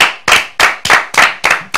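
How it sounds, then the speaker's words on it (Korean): A few people in a studio clap in unison, six sharp, evenly spaced bursts of close, loud handclaps with brief silences between them. "근데 왜 박수 치는 거예요?"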